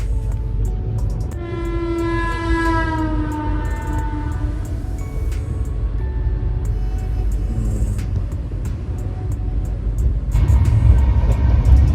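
An Indian passenger train running on the route between Pune and Jaipur, with a steady heavy rumble of wheels and carriages throughout, a long horn blast early on, and a louder surge of rolling noise near the end.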